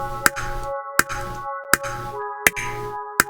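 An electric keyboard layered with the Sectar synth plugin repeats the same chords in short, pulsing stabs, each attack marked by a sharp click at an even pace.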